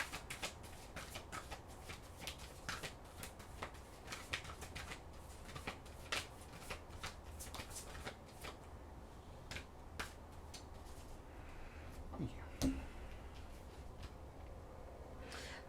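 Oracle cards are shuffled close by in a quiet room, producing a faint, fast run of crisp flicking taps and riffles that continues steadily with small pauses.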